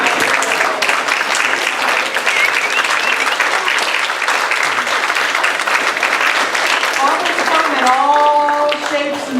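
An audience applauds fathers who stand up at a spiritual talk, steady dense clapping from a large crowd that carries on throughout, with a few voices and tonal sounds surfacing near the end.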